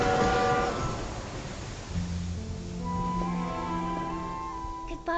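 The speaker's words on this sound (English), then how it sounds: "Look, the train is here." A train pulls in within the Infinity Nikki video game, a broad rumbling arrival with rising tonal hum and whistle-like sustained notes that settle into steady layered tones, fairly loud throughout with no talk.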